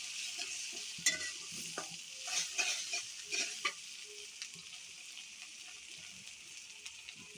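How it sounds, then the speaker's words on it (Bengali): A spatula stirs cardamom and cloves in a pan for chicken roast, giving soft scraping and tapping strokes over a faint, steady sizzle, quiet and close, tapering off toward the end. "দুটো এলাচ, দুটো লবঙ্গ, আবারও নেড়ে চেড়ে মিশিয়ে নেব।"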